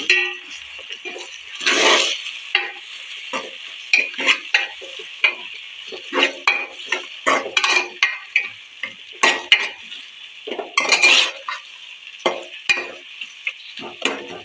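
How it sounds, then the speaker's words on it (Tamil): Green chilies, coriander and mint leaves stirred in a hot pan for chicken kurma, a spoon scraping and clinking against the pan in quick irregular strokes over a crackling sizzle, close and fairly loud. "பச்சை மிளகாய் மல்லி இலை புதினா இலை மூணையும் போட்டு கிண்டி"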